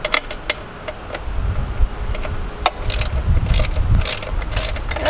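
A ratchet wrench turns a bolt outdoors during the teardown of a Tribute, giving quick clicking bursts over a low background rumble, close and fairly loud.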